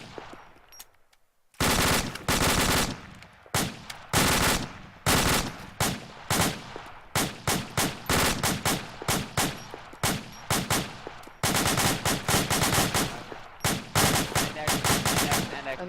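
Rapid automatic gunfire from a military shooter video game, loud and close, in dense bursts and strings of shots with short gaps, near-continuous through most of the stretch after a brief quiet opening.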